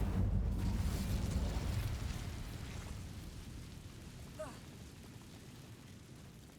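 A fire spell cast in Hogwarts Legacy gives a loud, rumbling burst at the start that fades into a low, roaring crackle over several seconds, with faint game sounds after.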